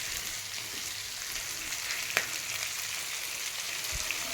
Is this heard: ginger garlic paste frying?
yes